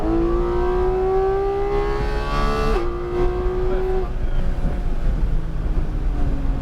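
A GT4 race car on a track accelerates hard, its engine note climbing loudly, dipping briefly at a shift, then rising again under heavy wind buffeting; no one speaks.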